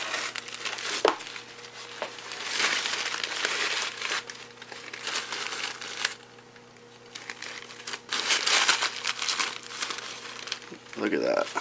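Paper towels crumple and crinkle close to the microphone while wiping leaked fluid off puffed Traxxas RC car batteries, coming in irregular bursts of rustling over a steady low electrical hum.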